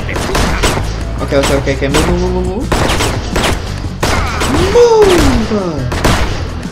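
Rapid bursts of gunfire from the video game Six Guns, loud and close, with repeated shots and booms stacked into fusillades, while someone speaks briefly over the shooting.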